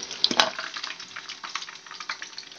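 Chicken kabab pieces crisping in hot oil give off a busy, steady crackle and sizzle, with a few sharper pops near the start.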